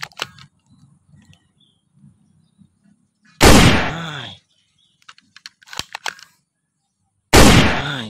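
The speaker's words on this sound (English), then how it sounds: "Wah, haha, shotgun guys." Shotgun fire in a video game: two loud, booming shots about four seconds apart, each decaying quickly, with small clicks and rattles between them.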